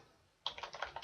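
Quick bursts of keystrokes on a computer keyboard after a moment of quiet, a close, rapid run of clicks while entering a search.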